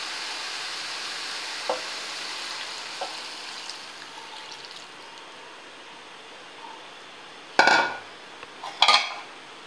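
Milk added to beetroot halwa in a pan, with a soft steady sizzle and faint stirring, then two louder sharp clinks and scrapes of a spoon against the pan near the end.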